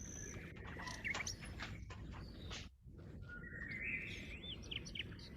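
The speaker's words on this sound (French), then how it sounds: "c'est pas trop fort là ce coup-ci, les oiseaux?" Small birds chirp and tweet repeatedly in the background, fairly faint and scattered, with a steady low room hum throughout and a brief drop near the middle.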